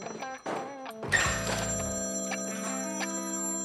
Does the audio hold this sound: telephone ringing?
yes